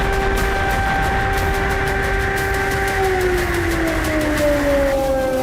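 A loud, sustained air raid siren drones on a steady pitch during a Russia-Ukraine war attack, then slowly slides downward near the end, backed by a constant broadband hiss.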